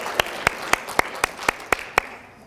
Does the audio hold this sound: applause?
yes